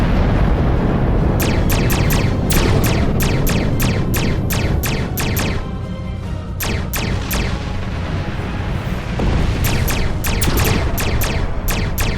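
Torpedo blasts and weapon fire from the Star Trek Online space combat game hit in rapid repeating bursts over a loud, continuous rumbling explosion bed, with no talking.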